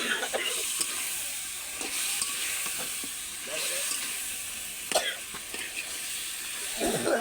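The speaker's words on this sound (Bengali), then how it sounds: "এই যে এখন আমি মশলা ভাজছি" Spices for a roast fry in a pan, giving a hissing sizzle with scattered stirring clinks and scrapes.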